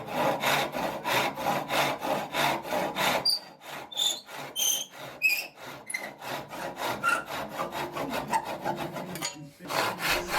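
A wooden walking stick handle is shaped by hand to take a brass fitting, with steady back-and-forth rasping strokes in a quick even rhythm, loud and close, briefly pausing for a few light scrapes before the strokes resume.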